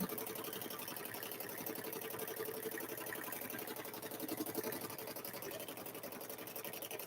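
A sewing machine hums in a steady, even run while stitching a quilted Grinch handbag, fairly quiet and uninterrupted for the whole stretch.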